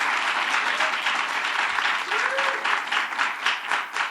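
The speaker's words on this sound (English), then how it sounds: "give Nancy Rankin a big round of applause" Applause from the audience at Governor Cuomo's announcement of minimum wage increases and paid family leave: steady, dense clapping that carries loudly through the whole stretch, with faint voices underneath.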